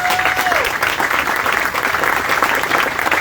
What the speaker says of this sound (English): That deserves a round of applause, folks.